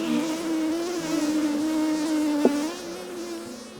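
Honey bees buzz steadily at an Alaskan hive during a summer check, a close, continuous droning hum with one brief sharp click midway.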